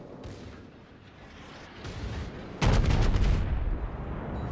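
Secondary guns of the battleship Scharnhorst firing in the video game World of Warships, a sudden loud burst of rapid booming shots that rolls on over a steady low rumble.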